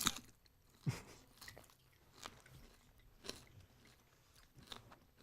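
Air-fried bacon being chewed close to the mic, with a few crisp bites and crunches spaced out over quiet pauses.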